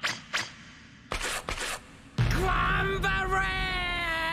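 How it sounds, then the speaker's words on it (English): An anime character lets out loud, sustained screaming and yelling, starting with short bursts and then a long, strained, continuous shriek that holds to the end. "he's just screaming still."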